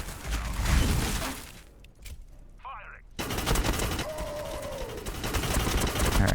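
Units trading gunfire in Warhammer 40000 Battlesector, an Astra Militarum versus Ork battle, with dense rattling volleys that drop away to near silence briefly, then resume just as thick, a voice talking faintly underneath.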